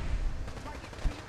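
Gunfire in the video game Fallout 4: a short burst of shots with a couple of low thumps, heard at moderate level under a busy game mix.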